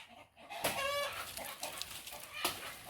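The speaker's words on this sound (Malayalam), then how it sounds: "കോഴികളെല്ലാം പോയി കൂട്ടി കയറ്" Chickens cluck and call close by as they are herded into their coop, a short burst of fowl vocalizations with a rooster-like note among them, over light outdoor background noise.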